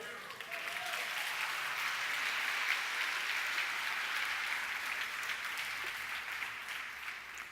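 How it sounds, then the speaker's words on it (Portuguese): Congregation applause during an Easter church service, a sustained roar of many people clapping together, loud and even throughout with no voice standing out. "aplauda ao Senhor"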